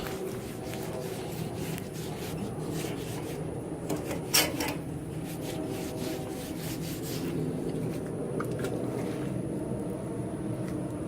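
Oil-soaked paper towels rub back and forth across a metal grill grate, a soft steady scraping and wiping under a constant background hum, with one brief sharper knock partway through.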